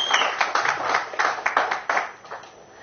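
An audience at a film audio launch event claps in a dense, uneven burst that rises and fades over a few seconds, heard from nearby without speech.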